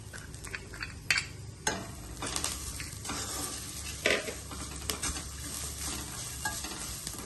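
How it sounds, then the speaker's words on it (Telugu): Tempering spices and grated coconut sizzle and fry in a pan, with repeated stirring scrapes and occasional clinks of a utensil against the pan, close and fairly loud with no talk. "తాలింపు సరుకులన్నీ వేగినాయండి వేగిన తర్వాత కొబ్బరి కూర పక్కన పెట్టి ఉంచాను కదా కొబ్బరి కూర వేసేసుకోవాలి"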